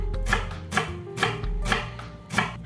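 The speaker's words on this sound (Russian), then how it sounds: "Беру репчатый лук и нарезаю его соломкой." A knife chops steadily through onion on a board, about five crisp evenly spaced cuts close by, with no talking.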